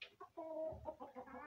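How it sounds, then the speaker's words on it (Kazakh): Brahma and Lohmann Brown hens give a short run of soft, close clucks in a farmyard coop, quiet overall and alone with no talking. "Брама тауықтары кездеседі."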